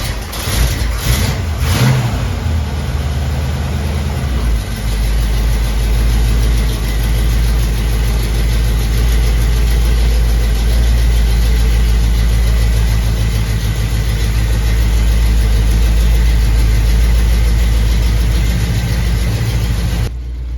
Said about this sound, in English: And now for the first time in 30 years, this car is about to move under its own power.